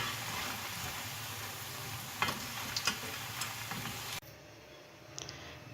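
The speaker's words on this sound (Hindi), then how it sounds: "अब इसको अच्छे से ब्राउन होने तक फ्राई कर लेंगे।" Mixed pakoras deep fry in hot oil with a continuous crackling sizzle and a few sharp ticks and stirring clicks. After about four seconds the frying drops to a much quieter hiss.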